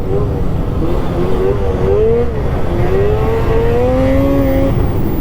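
A Mint 1200 snowmobile engine with 858 clutching runs loud and close, a droning buzz whose pitch wavers and climbs steadily as it pulls, with no pauses throughout.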